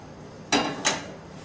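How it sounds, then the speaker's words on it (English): A saucepan lifted out and set down in a kitchen before frying potato pancakes: two sharp metallic clanks about a third of a second apart, close and clear against quiet room tone. "So I take a nice saucepan"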